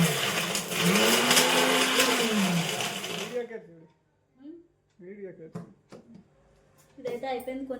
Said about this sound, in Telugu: ఇప్పుడు ఇదైతే మిక్సీ చేసేస్తాను